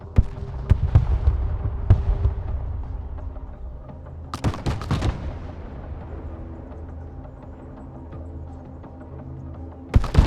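Artillery fire mission in the video game Broken Arrow: scattered heavy booms and sharp blasts, with a loud cluster of explosions midway and another at the end, each trailing off into rumbling decay.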